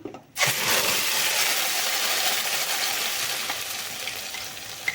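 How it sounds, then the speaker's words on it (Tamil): Ground onion paste poured into hot oil with cardamom and curry leaves for a gravy, bursting into a loud, steady, close sizzle that holds and slowly eases over several seconds, with no talking. "அரைச்சி வச்சிருக்கிற வெங்காய பேஸ்ட் வந்து நம்ம ஊற்றிக்கலாம்"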